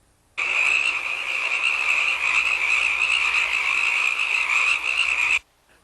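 A single frog croaks in one sustained, dense buzzing trill, loud and close, starting and stopping abruptly with silence on either side.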